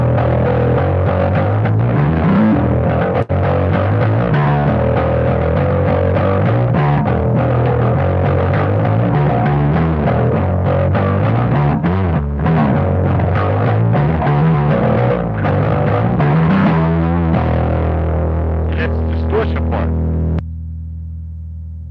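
A Rickenbacker 4000W bass through an MXR M80 distortion pedal at full blend plays loud, gritty distorted notes in a repeating riff, sustained throughout before cutting to a low lingering hum.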